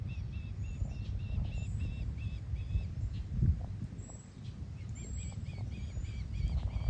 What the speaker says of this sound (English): I heard some chirping from that nest